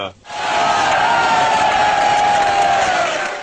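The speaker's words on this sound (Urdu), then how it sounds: "اس بزرگ رقاص کے فرمائشی رقص نے حاضرین کو تالیاں بجانے پر مجبور کر دیا۔" A crowd roars and cheers loudly and steadily, with applause, for an elderly dancer's requested dance at a gathering. The sound rises after a brief quiet start and holds as dense, close crowd noise.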